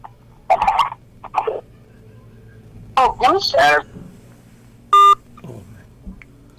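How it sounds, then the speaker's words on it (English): A short electronic telephone tone sounds once during a live talk broadcast, a brief bright beep cutting in between stretches of people talking. "The phone went off."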